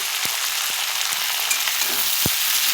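Yardlong beans fry in a pan with a steady, dense sizzle, while a few short stir or utensil knocks cut through the hiss.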